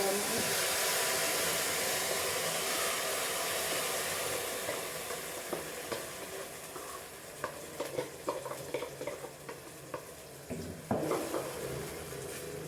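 Chutney paste for momos dropped into hot refined oil, setting off a steady loud sizzle that gradually eases, with scattered clinks and stirring scrapes in the later seconds.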